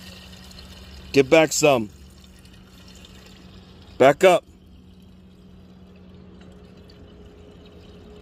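Mixed gas poured into the fuel tank of an OCC chopper YD 100 motorized bike, a faint continuous trickle under a steady low hum, with someone speaking two brief phrases over it.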